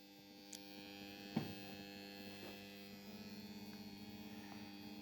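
A Grundfos circulation pump powered from a battery-backed uninterruptible supply runs with a faint, steady electrical hum, even and continuous, with a couple of tiny clicks and no voices.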